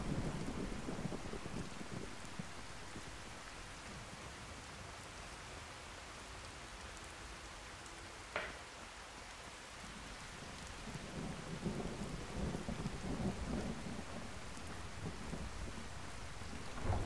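Steady rain falls in a Skyrim thunderstorm, a continuous hiss with low rumbling thunder rolling underneath and one sharp crack midway, no voices.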